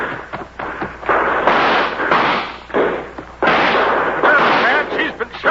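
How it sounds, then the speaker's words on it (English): Gunfire in a 1953 frontier Western radio drama about a road agent, a string of sharp shots and bursts cracking repeatedly over several seconds, fairly loud and close, with dramatic action noise filling the gaps. "Man, she's been shot. Use your rifle, Jim."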